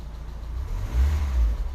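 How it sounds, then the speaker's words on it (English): A broken 1990 Mazda Miata idles with a rough, diesel-like clatter from loudly tapping valves, a low steady engine drone that swells slightly midway, close up with no talking. "it sounds like we're starting up an old diesel. The valves are tapping really loudly."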